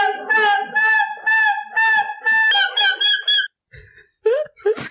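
A man imitates a seagull squawk into a microphone, giving a run of loud, close, nasal cries in quick succession, followed by a few shorter broken squeals.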